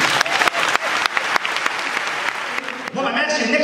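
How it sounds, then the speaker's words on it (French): A comedy show audience at Sorano bursts into loud, dense applause mixed with crowd noise, sharp claps punctuating the wash, and a voice speaks over it near the end. "Applaudissez-le."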